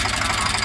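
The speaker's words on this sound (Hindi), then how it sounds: "बंद करो ट्रैक्टर" A farm tractor engine idles in a sugarcane field, a steady, loud mechanical rumble with a rough, even pulse for less than a second.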